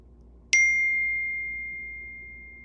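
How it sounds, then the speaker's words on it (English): A phone notification chimes once, a single clear bright ding that rings out and fades slowly in an otherwise quiet room. "My phone has been going off like crazy today."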